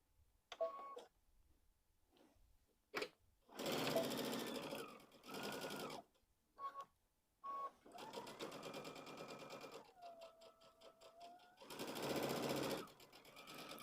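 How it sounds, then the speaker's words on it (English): A sewing machine stitches around a pumpkin pillow in several bursts of whirring, broken by pauses and small clicks, with one long steady run near the end. "Now we're going to go back to our machine and we are going to sew all the way around."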